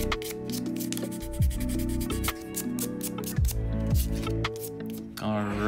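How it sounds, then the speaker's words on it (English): Fine sandpaper rubs back and forth on a wooden fingerboard deck, a steady close scratching with rhythmic strokes, accompanied by background music. "We're gonna use some fine sandpaper real quick."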